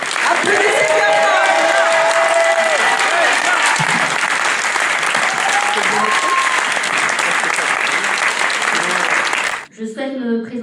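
A crowd at a French municipal election campaign meeting in Livry-Gargan gives sustained, loud applause for a mayoral candidate for about ten seconds, then it fades and a voice starts speaking.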